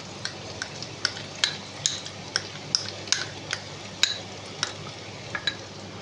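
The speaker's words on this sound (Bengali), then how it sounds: "আমি দিয়ে এগুলো একটু হালকা নেড়ে নিচ্ছি" Ginger-cumin paste and cashew paste being stirred in a pan for paneer, with light scraping taps of a spoon at a steady rhythm over a faint sizzle, close and fairly quiet.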